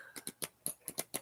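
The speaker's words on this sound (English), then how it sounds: "The card shuffle music to my ears." A quick run of sharp, crisp tarot card snaps while shuffling, about eight in just over a second, close and quiet with nothing else around.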